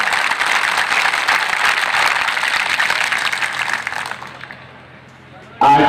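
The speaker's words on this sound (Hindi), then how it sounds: "जोरदार तालियों से स्वागत होना चाहिए हमारे अतिथियों का" A rally crowd applauding guests on stage, a broad sustained wash of clapping, loud and continuous for about four seconds before fading out, followed by a brief sound at the end.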